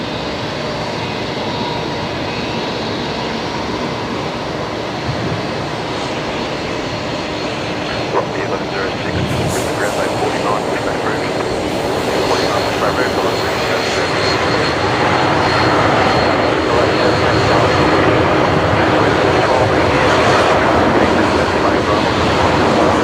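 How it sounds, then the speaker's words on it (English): A Boeing 737 MAX 8 airliner landing at Brisbane Airport, its jet engine roar building steadily from a distant rumble to a loud, broad wash of noise, with occasional voices in the background. "there's the Max 8 coming in from Nandi"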